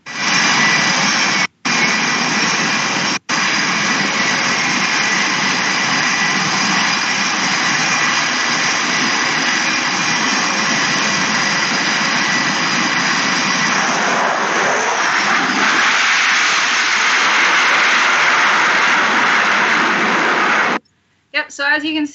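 An F-18 jet roars loudly and steadily on approach to an aircraft carrier deck, a sustained broadband engine rush lasting about twenty seconds with brief dropouts near the start and a cut at the end.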